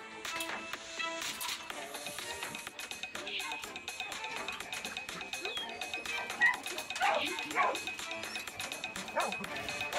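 A wolfdog and a large wolf-like dog fight while a Central Asian Shepherd stands nearby, with repeated sharp barks, yips and whimpers over a busy, scuffling background. A voice is heard talking in places.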